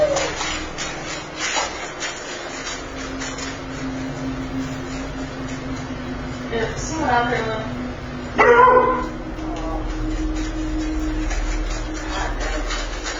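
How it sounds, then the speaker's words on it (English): Dogs bark and fuss indoors at night, with repeated yips and a loud burst of barking near the end over a steady household hum, while a person talks over the noise. "their dogs begin to totally freak out for no apparent reason"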